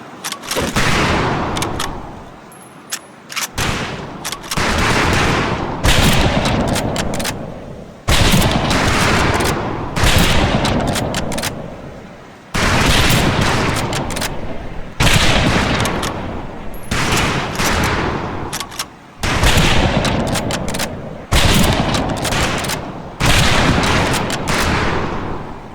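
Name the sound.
rifle volley firing on range, from video game Medal of Honor Pacific Assault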